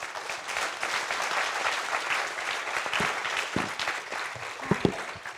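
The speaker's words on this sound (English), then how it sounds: "let's give all the panels a applause." Audience applause for a panel at a lecture session, a steady crackle of many hands clapping throughout, with a few louder individual claps standing out near the end.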